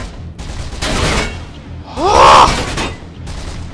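Gunfire from the video game Mirror's Edge comes as a dense fusillade of game shots with booming bursts, loud in the mix, while a player exclaims briefly.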